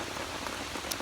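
Steady rain falls outdoors, a dense, even patter of drops on surfaces that stays constant and close for the whole short stretch, with no voices.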